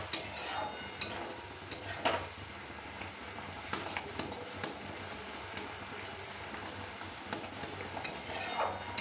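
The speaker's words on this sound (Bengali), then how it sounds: "এরকমভাবে নেড়ে নেড়ে নেড়ে নেড়ে অনবরত ফুটিয়ে নিতে হবে।" A spoon stirs thick boiling mango chutney in a pot, with steady scraping and scattered metallic clinks and taps against the sides over a continuous bubbling hiss, close and moderately quiet.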